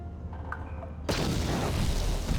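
A frag grenade goes off in Star Wars: Knights of the Old Republic: after a second of quiet ambience, a sudden loud blast erupts and rolls on as a dense, sustained rumbling roar until the end.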